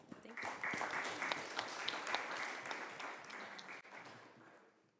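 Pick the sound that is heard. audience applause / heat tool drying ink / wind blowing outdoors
audience applause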